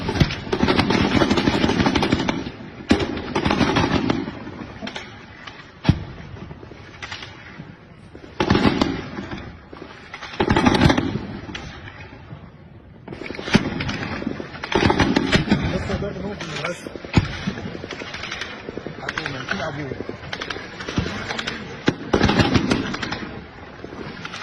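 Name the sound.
gunfire in news footage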